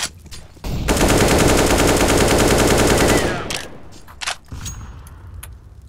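Sustained burst of rapid automatic gunfire from a weapon in a CS:GO match, loud and close for about three seconds, then trailing off into a few scattered shots and faint game noise.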